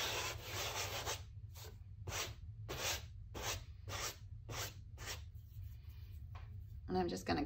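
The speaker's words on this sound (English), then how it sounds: "I'm going to use a flat synthetic brush to try to get a smooth" A flat synthetic brush spreads a paint coating in repeated short rhythmic strokes, each a soft brushing rasp separated by brief pauses, close and quiet.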